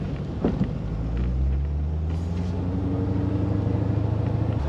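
C4 Corvette rolling off a ferry, a deep, steady engine rumble with a low droning tone that rises slowly in pitch as it pulls away, loud and close throughout.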